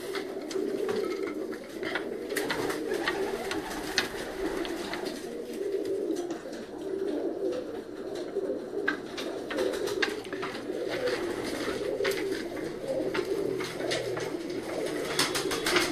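Black-faced pigeons coo in soft, repeated low phrases, overlapping and fairly faint, over a steady background hum with scattered clicks and no talking.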